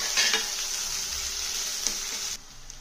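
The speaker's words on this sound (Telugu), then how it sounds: "ఒక లావుపాటి ఉల్లిపాయ, దీనిలోనే పచ్చిమిరపకాయ ముక్కలు వేసేసి చక్కగా వేయించడం." A thick onion and green chili pieces fry in a pan, giving a steady, close sizzle with faint stirring scrapes that drops quieter near the end.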